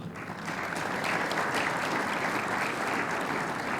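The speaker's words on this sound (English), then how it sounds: "let's give them a great hand of applause" Audience at the 2025 Iowa PGA awards luncheon gives a sustained, dense round of applause, steady and fairly loud from start to finish with no voices over it.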